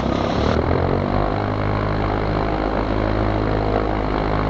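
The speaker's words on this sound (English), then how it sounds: "And now we're going to do a run-up before takeoff." A Zenith light aircraft's propeller engine running up to 1600 rpm before takeoff, a loud steady droning roar close by that rises in pitch at first and then holds constant, with no talking.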